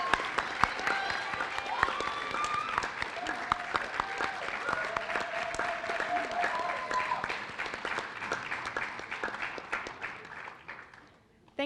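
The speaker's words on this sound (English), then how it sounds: "please join me once again in applauding all of our new Honor Society members" An audience at a National Honor Society induction ceremony claps steadily for the new members, a sustained wash of applause with some voices mixed in that fades out near the end.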